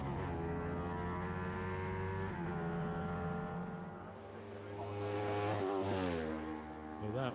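Road racing motorcycles at Cookstown scream past with sustained high engine whine, the pitch swelling and falling as bikes approach and pass, then a second rider sweeps by near the end.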